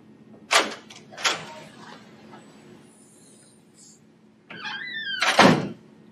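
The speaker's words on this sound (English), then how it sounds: "A slamming door can be quite distracting, especially during an important conference call." Two sharp door slams ring out in quick succession, loud and near in a quiet room, then after a pause come a squeaky creak and a third heavy bang, with no talking.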